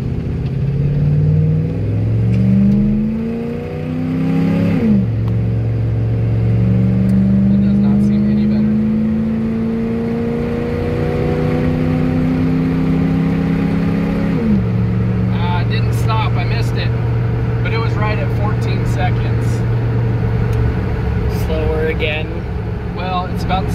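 Ford 460 V8 in an OBS truck pulls hard through rising revs, dropping sharply at each gear shift and bogging before climbing again, loud and close with people talking over it.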